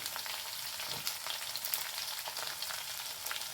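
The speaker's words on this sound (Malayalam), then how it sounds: "കുറച്ച് വെളുത്തുള്ളി ഇട്ട് കൊടുക്കുന്നുണ്ട്" Sliced ginger and garlic fry in hot oil for an Onam pickle of dates, green chilli and pineapple, giving a steady, bright crackling sizzle with a soft stirring knock near the start.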